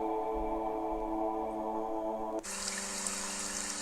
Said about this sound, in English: That's again another one with just water.